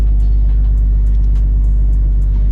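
Barra-swapped Ford Mustang GT350 engine during a sequential flat-shift test, a steady low engine rumble with a pulsing idle-like throb, close and continuous with no speech.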